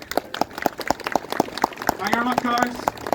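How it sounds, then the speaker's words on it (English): Festival-goers at the Rustival live stage clap in a steady rhythmic beat, each clap crisp and evenly spaced. A voice briefly calls out partway through. "big round of applause for the people who made this happen"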